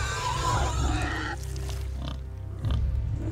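Pig grunting in the God of War video game: a run of low, rough snorts and grunts, close and fairly loud, briefly dropping off before a final grunt.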